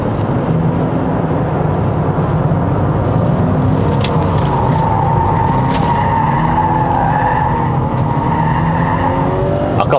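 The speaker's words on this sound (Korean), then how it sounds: "이 차는 SUV치고는 코너를 잘 도는 편이고 이 속도도 꽤 높게 나옵니다" Tires squeal and skid as a 2022 Honda CR-V Hybrid 4WD Touring corners at speed, a sustained screech over road roar and engine hum with wavering pitch.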